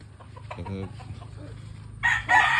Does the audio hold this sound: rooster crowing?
yes